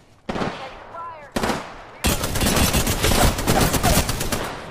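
Automatic gunfire from the video game Apex Legends: two short bursts, then a dense, loud stretch of sustained rapid shots filling the rest of the moment.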